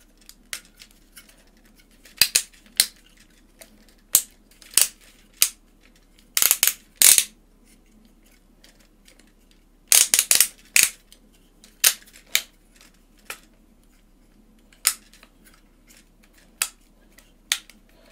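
Claws on a plastic transforming dragon toy, a Hello Carbot King Dizer, snap as they fold, with sharp, close plastic clicks coming in scattered single clicks and quick clusters and no talking.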